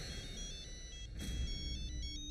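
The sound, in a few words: phone ringtone, incoming call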